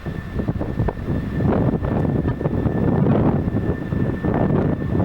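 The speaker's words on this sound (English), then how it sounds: "So the wind is blowing, as you can hear it" Steady wind buffeting an outdoor microphone at a D-Day 50th anniversary event, a continuous loud low rumble with gusting surges and a faint constant tone running underneath, no voices.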